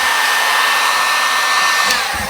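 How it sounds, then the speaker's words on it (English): A heat gun blows steadily and loudly on cracked old vehicle wrap, its continuous broadband roar and faint whine holding without pause, close to the listener. "You can see I'm using a heat gun on this section."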